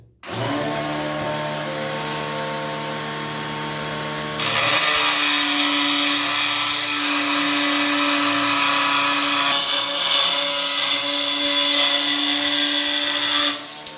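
A butterfly disc on a power tool spins up and then cuts through 10 mm matte tile, giving a loud, steady high-pitched whine that grows harsher once the cut starts and runs on for about ten seconds.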